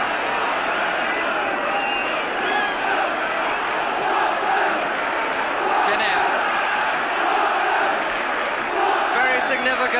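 Delighted Spurs supporters at a 1972 UEFA Cup semi-final football match against AC Milan, a large stadium crowd roaring and cheering continuously after a goal, loud and sustained with scattered whoops and a commentator talking over it.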